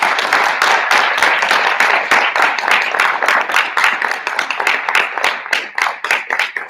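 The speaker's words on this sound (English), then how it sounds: "So please give them a huge round of applause." Audience applause for the speech team seniors at a high school recognition night, a loud, steady stretch of many hands clapping with individual claps standing out, holding strong throughout and thinning slightly toward the end.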